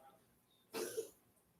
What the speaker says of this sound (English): So it's you hear Bolo cough in the background.